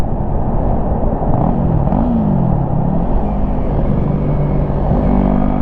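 A 2016 Yamaha R3 motorcycle cruises on the highway in top gear at about 63 mph and 6,500 RPM, its engine whining loudly and continuously under heavy wind rumble, with the pitch wavering slightly up and down.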